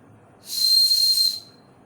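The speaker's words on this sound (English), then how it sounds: "This whistle's pretty loud." One loud, shrill blast from a survival whistle built into a tactical shovel handle sounds for just under a second, breathy and piercing, starting and ending abruptly against near silence.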